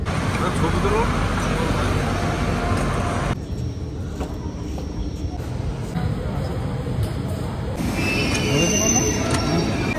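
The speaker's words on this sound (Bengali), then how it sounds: "চলো, ট্রেন ছেড়ে দিয়েছে।" Netaji Express train running on rails, a steady loud rumble throughout with rolling wheel noise, changing in tone midway as if heard from inside a third AC coach, with faint voices underneath.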